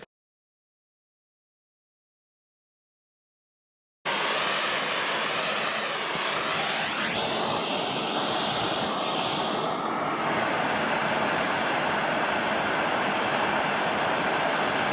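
A MAP gas torch heats around a broken exhaust stud on a Porsche 996. After a few seconds of silence, a loud, steady roaring hiss starts and holds without a break.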